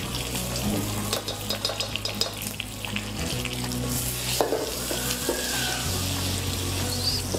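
Butter sizzles in a little olive oil in a pan, a soft continuous frying crackle with small pops, heard close at a modest level alongside faint kitchen clatter.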